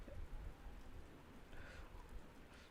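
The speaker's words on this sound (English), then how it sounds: "The chilly November air filled the room as the soft sounds of the rain doubled in volume" Steady rain falls outside an open window on a chilly November night in the visual novel Witch on the Holy Night, a soft, continuous patter at low volume with no voices.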